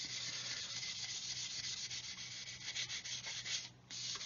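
A thumb rubs along a plastic seam on a Revell 1/144 Saturn V model up close, soft dry strokes forming a continuous gritty friction sound with slight pulses and no talking.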